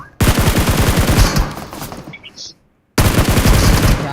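Rapid automatic gunfire in a video game, loud and close, in two dense bursts separated by a short silence, with a faint ping between them.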